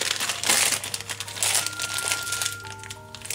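Plastic packaging of an Archer/Arjuna Nendoroid figure is handled up close, giving bursts of crisp crinkling and crackling that rise and fall over a few seconds.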